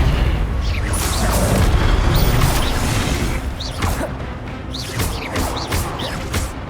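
Spells cast in Hogwarts Legacy, such as Expelliarmus, come as loud booming whooshes and crashing impacts, layered over a continuous rumble of game action.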